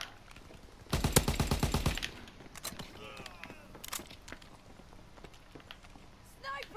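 Rapid bursts of gunfire in the World War II shooter Call of Duty WW2 during team deathmatch, a loud automatic volley followed by scattered single shots and battle noise, with a voice speaking over it.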